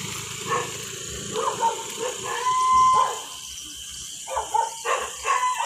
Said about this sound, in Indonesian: Ini anjingnya menggonggong teman-teman.